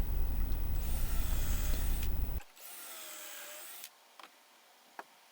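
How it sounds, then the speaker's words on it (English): A power drill whirs loudly, drilling pocket holes into western red cedar table aprons for a couple of seconds, then a second quieter whine follows, ending with a few faint clicks. "drill 2 holes on the inside face of each of the table aprons"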